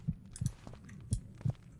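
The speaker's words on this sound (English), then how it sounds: "Don't know what the heartbeat is all about" A game heartbeat effect from The Witcher 2 thumps in paired low beats, two double pulses spaced evenly across the short stretch, close and clear with no talking.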